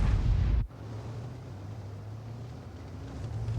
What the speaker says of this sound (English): He fires that one in